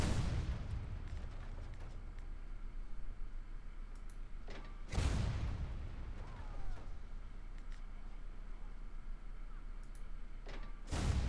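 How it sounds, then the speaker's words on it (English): Two heavy cannon blasts boom out in the Warhammer Online game, several seconds apart, each a loud low thud over a steady background drone. "Seems a little excessive to use a cannon to kill him."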